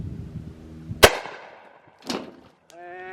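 A 12-gauge shotgun fires a single sharp, loud blast at a ballistic gel head about ten yards away outdoors, followed by a fainter secondary impact and a brief voice.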